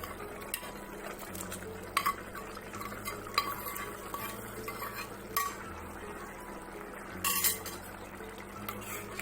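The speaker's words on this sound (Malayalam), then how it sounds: "ഇനി ഇതിലേക്ക് നമ്മൾ ഫ്രൈ ചെയ്ത് വെച്ചിട്ടുള്ള മീൻ കഷ്ണങ്ങൾ ചേർത്ത് കൊടുക്കാം." Fried fish pieces stirred into a simmering chili curry paste in a pan, with scraping spoon strokes and clinks of utensils against the pot over a low, steady cooking hiss.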